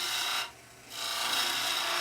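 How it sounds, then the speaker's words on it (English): A skew chisel cuts V-cuts into wood spinning on a lathe, giving a steady hissing, scraping rasp that stops briefly between two passes. "So now we're going to do a couple of V-cuts."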